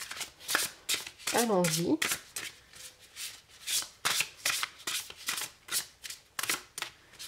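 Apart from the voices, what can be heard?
shuffling oracle cards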